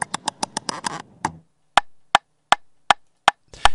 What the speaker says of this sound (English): The very first time you'll hear wind up,